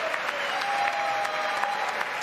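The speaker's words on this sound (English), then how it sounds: "Plenty of applause from Republicans last night." Applause from Republican lawmakers during a presidential address in the chamber, a sustained even wash of clapping with a faint tonal hum running underneath.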